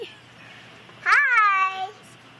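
A cat lets out a single drawn-out meow, loud and close, rising and then falling over almost a second, with a low room hum and quiet background around it.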